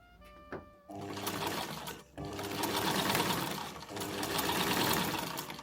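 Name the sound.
sewing machine stitching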